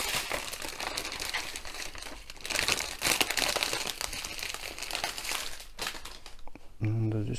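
Plastic diamond painting drill packets crinkle and rustle steadily as they are peeled open and the drills tipped out, close and fairly quiet, ending with a brief voice.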